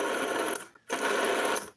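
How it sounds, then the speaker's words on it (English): A rotary-style telephone rings in two long bursts of bright, rattling bell tone separated by a short silent gap, close and fairly loud with no talking. "Sounds like a rotary phone, doesn't it?"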